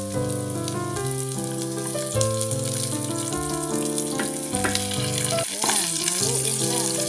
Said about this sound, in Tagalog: Ihulog na natin ang sibuyas.